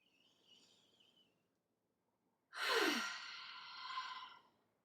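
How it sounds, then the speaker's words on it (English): A single long cleansing exhalation, breathy and close, rising suddenly and fading out after about two seconds, preceded by a faint high whistle-like tone. "First, a cleansing breath."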